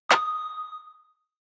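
A layered electronic hit: a snare crack fused with a distorted sine-wave pluck, giving one bright, squarey tonal ping that rings briefly and fades within about a second, alone and clean.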